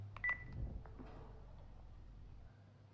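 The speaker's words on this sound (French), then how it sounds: "J'appelle le secrétariat." Keypad dialing on an office telephone gives a few short, faint tones near the start, followed by quiet room hiss.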